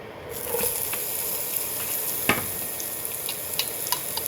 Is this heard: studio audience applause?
no